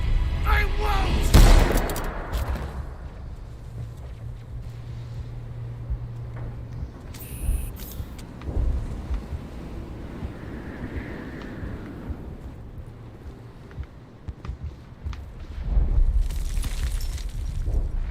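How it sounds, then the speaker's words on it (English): Explosions, booms and deep rumbling from a Mass Effect Legendary Edition game sequence, with heavy blasts near the start and end and scattered bursts and rumble between, mixed with other game sounds. "it has the atmosphere, the explosions and the rumbling and stuff"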